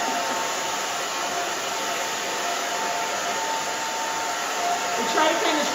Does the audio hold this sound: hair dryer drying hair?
yes